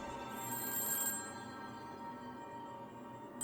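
A telephone rings in a home in East Point as police use an automated system to dial every number in the city. The bright, trilling ring is moderately soft and continuous, with no voices.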